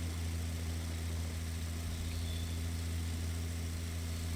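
A powerful tractor engine in the farming video game Pure Farming 2018, a low steady drone with a deep hum that holds evenly throughout, fairly quiet and unchanging as the tractor crawls along.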